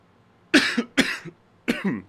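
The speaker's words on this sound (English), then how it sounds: "I'm coughing like crazy." Three sharp, close coughs in quick succession, each a rough burst with a short tail, separated by near silence.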